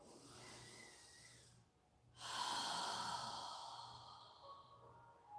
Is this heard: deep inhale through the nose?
yes